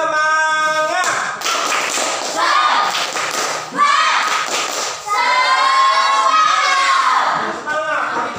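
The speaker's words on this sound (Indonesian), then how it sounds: "Tepuk semangat." Schoolchildren in a classroom perform a rhythmic clapping chant, with loud patterned claps and taps mixed with shouted, sung voices in unison, lively and close throughout.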